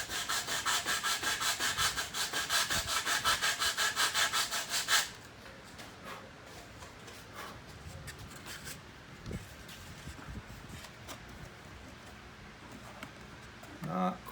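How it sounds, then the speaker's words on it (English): A small wooden bridge piece for a model railroad is sanded by hand at a workbench, with steady rhythmic rasping strokes for about five seconds, followed by quieter handling noises and occasional light scrapes. "I need to sand a little bit on this corner here"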